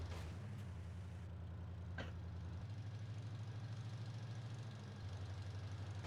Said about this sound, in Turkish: Adam traktörle kovalıyor bizi.